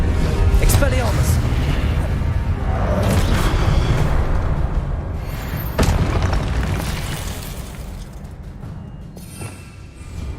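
Spell blasts cast in Hogwarts Legacy: loud, deep booms and explosive bursts with whooshing swells, several impacts in quick succession over a steady rumbling bed, one sharp blast standing out midway.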